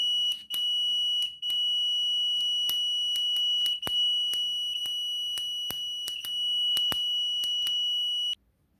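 Homemade LDR light-sensor alarm giving a steady, loud, high electronic tone. Sharp clicks and pops break in at intervals, and the tone cuts off near the end. No voices.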